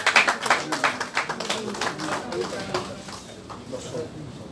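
Audience at a federation birthday celebration applauding loudly for an honoured guest, clapping strong at first and then thinning out as a voice speaks over it.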